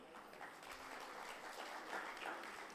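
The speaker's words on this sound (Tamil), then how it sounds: "ஏன் இவ்வளோதான் நீங்கள் கைதட்டுவீங்களா?" Listeners at a Tamil comedy pattimandram debate stage clap for a speaker, a faint, distant wash of many hands clapping steadily with no clear pauses.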